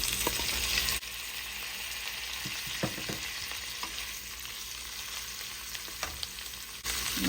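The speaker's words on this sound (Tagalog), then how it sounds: "Then, I will add the chicken meat." Chicken meat sizzles and fries steadily in a hot pan, a continuous crackling hiss with occasional stirring clinks, close and fairly quiet with no talking.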